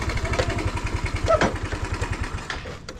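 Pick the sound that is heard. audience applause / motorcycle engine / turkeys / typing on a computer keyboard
motorcycle engine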